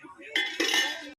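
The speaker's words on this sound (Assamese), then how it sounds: "বাচন ধুইছো দেই।" Dishes are washed with a brief, close clatter of pots, plates and cutlery clinking together for about a second.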